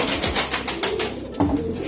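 Arab tumbler pigeons in a coop give soft cooing calls, a short run of rhythmic low pulses with a brief coo toward the end, heard close by without talk.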